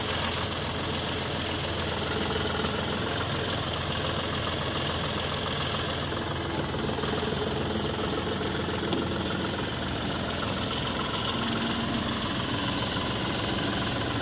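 A John Deere 5405 tractor with a 63 hp engine, fitted with a 48-blade Shaktiman rotavator, runs in a steady, unbroken low rumble, close and constant throughout, with no speech.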